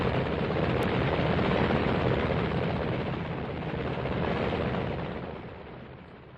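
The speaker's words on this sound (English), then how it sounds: "2 helicopters are taking off to bring back samples of seawater from the lagoon." Two helicopters lift off near a lagoon, their rotors and engines making a loud continuous roar that holds steady and then slowly fades as they move off.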